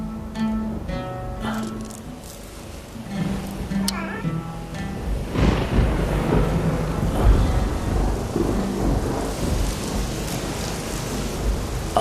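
Steady rain with rolling thunder, swelling into a dense, roaring downpour about halfway through; the first part is thinner, with tonal sounds or voices over the storm.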